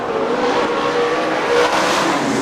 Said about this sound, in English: Byron Reed still getting a pretty good run off of turn number 2